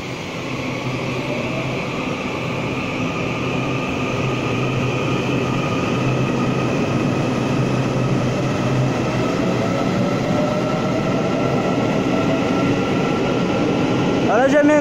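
An EMU845+EMU846 commuter train on the mountain line to Hsinchu pulls into a station with a steady, loud electric hum and rumbling wheels that build gradually, ending with a brief squeal.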